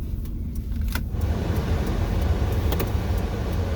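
A car engine left idling in cold, foggy weather gives a steady low rumble throughout, with a few faint clicks and a light jingle of keys near the start.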